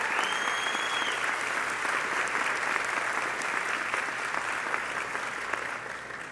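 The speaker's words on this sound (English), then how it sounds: "Let's give Marty Smith a well-deserved round of applause" A crowd at a 2010 community college graduation ceremony gives a round of applause, a continuous wash of clapping heard from within the hall for over six seconds, steady and full.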